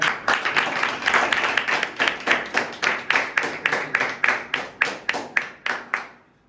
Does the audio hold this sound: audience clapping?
yes